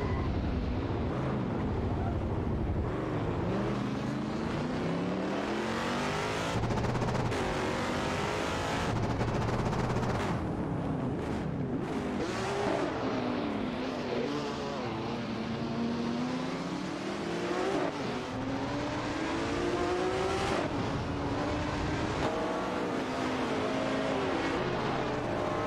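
Several race cars in an AI-driven racing video game roar continuously, their engine tones whining up and down in pitch as they accelerate, shift and pass, loud and unbroken throughout.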